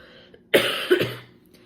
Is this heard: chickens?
no